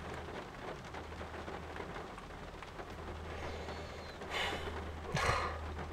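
Rain falls steadily on a broken-down car waiting for a tow truck in hot weather, a soft continuous patter with a low hum underneath and two brief louder bursts near the end.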